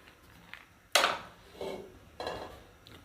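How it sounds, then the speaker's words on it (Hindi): A metal kadhai set down on a kitchen stove: one sharp clattering knock, then two softer scraping bumps as it settles, fairly close in a quiet room. "अब इसके ऊपर कढ़ाई रख देंगे"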